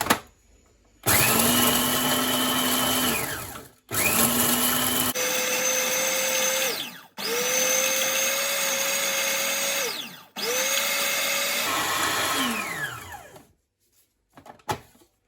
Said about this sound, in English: So now that I've added all my spices in here, I'm going to just chop this.